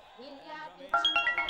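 A mobile phone ringtone starts abruptly partway through a quiet domestic scene in a Hindi-dubbed movie, playing a bright, pulsing electronic melody of repeated short notes.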